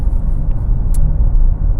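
A Dacia Jogger's three-cylinder engine idles with a steady, loud low rumble and slight vibration heard from inside the car, with a faint brief clicks over it and no voices.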